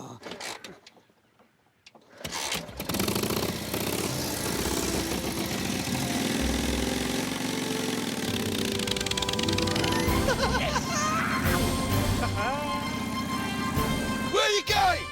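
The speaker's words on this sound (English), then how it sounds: "Sounds like an old tractor" An old tractor engine sputters to life after a quiet start, then chugs and rattles steadily at close range while people talk over it.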